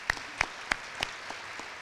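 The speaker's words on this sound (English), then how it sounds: "Round of applause for Emma." Brief applause from an audience at a school board student recognition awards ceremony, a few sharp claps that quickly thin out and fade into a quiet room.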